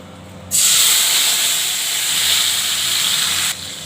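Spice paste of mustard, poppy seed and chilli hits hot oil tempered with cumin and nigella, bursting into a loud, steady sizzle that holds for about three seconds, then cuts off.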